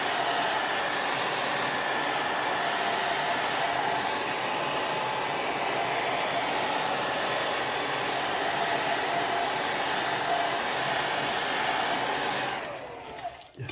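A hair dryer drying wet watercolor paper blows steadily with a broad, even whoosh for most of the clip, then cuts off abruptly near the end.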